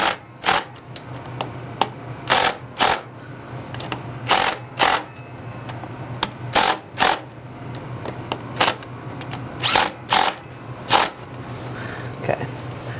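Sharp wrench clicks in quick pairs repeat steadily while motorcycle clutch cover bolts are tightened, over a low steady hum.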